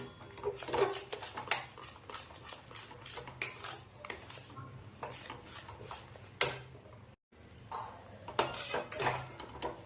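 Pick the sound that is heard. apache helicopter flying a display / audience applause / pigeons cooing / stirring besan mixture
stirring besan mixture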